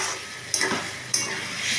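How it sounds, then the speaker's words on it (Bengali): Soybean and potato curry is stirred in a pan, with a faint sizzle under two short scraping clinks of a utensil against the pan. "এবার এটা নাড়াচাড়া করে নিয়ে একটু ঢেকে দিয়ে কমিয়ে দেব"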